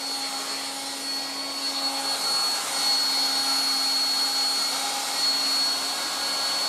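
A 1960s Dateline DLMD vintage hair dryer runs steadily nearby with a constant whirring motor hum and airy rush that rises slightly midway, no speech.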